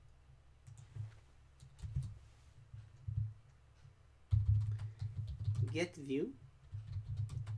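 Soft computer keyboard typing in short bursts of clicks, with a faster clattering run in the middle, while someone talks over it.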